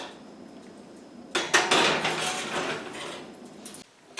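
A tray of parmesan puffballs made with cheese goes into the oven: a quiet pause, then a sudden metallic clatter of the pan against the rack and the rattle and thud of the oven being shut, fairly close.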